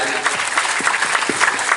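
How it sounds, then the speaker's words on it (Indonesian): A small group at a school students' farewell ceremony claps briefly, a quick patter of hand claps with no cheering. "Kasih tepuk tangan, sepakat ya."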